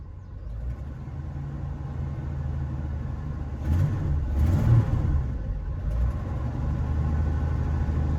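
A 1982 Ford F-150 with a 4.9-liter inline-six and a custom two-muffler single exhaust, heard from inside the cab with the windows up: a low steady engine drone that swells briefly as it revs midway, then settles back.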